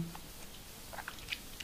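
Gum being chewed close up, with soft wet smacks and a few sharp little clicks in an irregular rhythm, quiet and alone.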